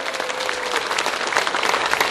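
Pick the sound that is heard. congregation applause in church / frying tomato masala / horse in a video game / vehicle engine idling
congregation applause in church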